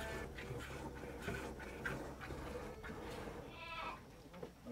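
Goat at the Coatepec regional organic market in Veracruz during milking, bleating in short repeated cries against a busy, faint background, with no talk.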